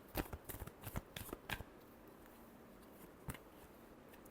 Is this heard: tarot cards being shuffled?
yes